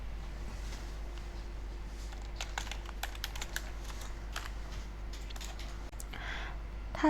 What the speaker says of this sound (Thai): ให้ท่านใส่ชื่อวาระย่อยของท่านนะคะ และพิมพ์รายละเอียดวาระค่ะ